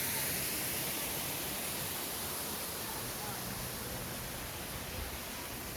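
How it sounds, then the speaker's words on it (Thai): Steady broadband rush of a waterfall in a forest with ferns, loud and continuous throughout without any voices. "นี่มีน้ำตกด้วยนะคะ"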